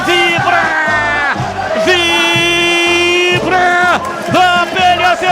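A football crowd roars and chants in unison at a Ponte Preta versus Chapecoense Série B match, loud rhythmic bursts of massed voices rising and falling in waves.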